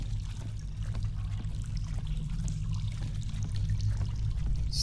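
Footsteps slosh and wade through a thin layer of shallow water in a dark, wet tunnel in the game Husk, a continuous low churning splash with no talking.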